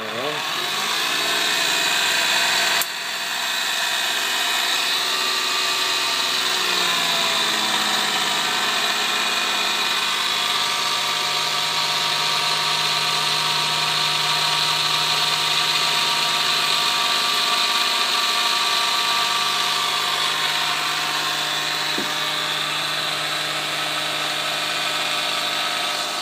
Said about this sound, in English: this is the DC supply for the DC motor